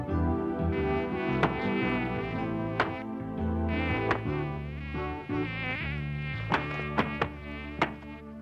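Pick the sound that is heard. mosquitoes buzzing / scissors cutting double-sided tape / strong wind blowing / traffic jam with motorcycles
mosquitoes buzzing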